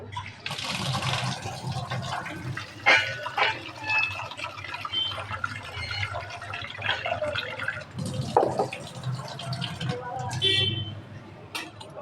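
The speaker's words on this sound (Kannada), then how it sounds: "ಇವನ್ನ ಸ್ವಚ್ಛಗೆ 3 ಸಲ ನೀರು ಹಾಕಿ ತೊಳ್ದೆನು" Ration rice being washed with water for dosa batter, close splashing and swishing of grains and water in uneven bursts, someone talking over much of it.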